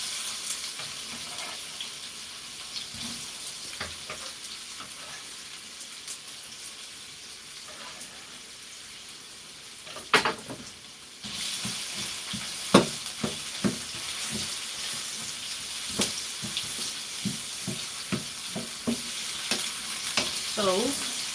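Onion frying in oil for jollof rice: quiet stirring and clinks at first, then a sudden louder sizzle that keeps going alongside steady scraping of the pan, close up.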